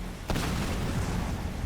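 A blast from suicide grunts going off in Halo Wars 2: one sudden boom lands a quarter second in, then a dense rumbling roar holds steady and loud until the clip ends.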